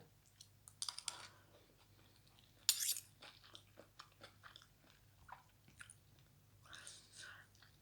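Someone eats fried rice close to the microphone: quiet wet chewing and biting with small clicks and occasional crunches, alongside soft whispered talk.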